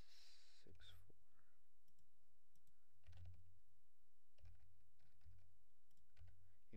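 Clicks from a computer keyboard as a DNS server address is typed in, short scattered clusters of close key presses with a soft whispery voice underneath.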